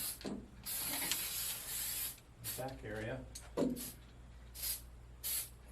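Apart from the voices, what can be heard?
spraying dry lubricant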